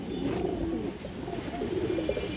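Mated pair of Bagha pigeons coo in low, repeated, throaty rolls, close and continuous over faint background noise.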